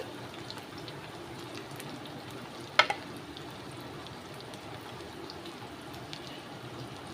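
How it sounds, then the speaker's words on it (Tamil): Masala-coated fish shallow-frying over medium flame with curry leaves: a faint, steady sizzle hisses throughout, broken once by a sharp metallic clink near the middle, with no talking. "மீடியம் ஃப்ளேமில் வச்சு பொரிச்சு எடுத்துக்கலாம்"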